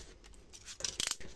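Scissors snipping through paper for a scrapbook page, a quiet close sequence of a few quick crisp cuts.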